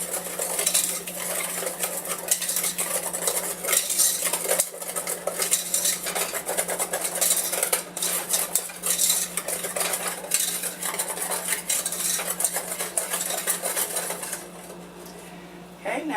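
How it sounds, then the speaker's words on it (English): A wire whisk scrapes steadily around a bowl, blending salt and sugar for a peach cream pie, producing continuous close, rapid metallic clinking and scraping that runs unbroken for most of the stretch before easing off near the end. "we're just going to whisk that all together until we get it well blended together"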